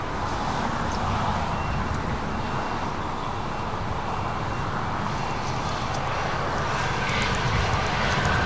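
An Airbus A330 airliner arriving from Honolulu taxis toward the west gates at LAX, its engines giving a steady, continuous broadband roar that holds at an even level throughout, with no talking.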